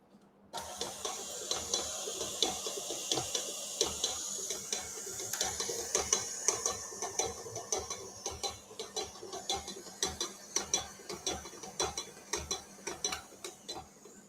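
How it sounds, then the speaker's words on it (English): An electric mixer beats butter at medium speed, a steady whirring hum with dense, irregular clattering of the beaters against the bowl, growing choppier and more rhythmic toward the end. "I'm going to start beating this on medium speed for about a minute until the butter becomes light."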